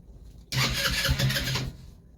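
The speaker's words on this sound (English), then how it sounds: "Little choke here." A Yerfdog Scout compact utility vehicle's small engine cranks and catches with the choke on, running loud and close for over a second before dropping back, on a cold 30-degree day.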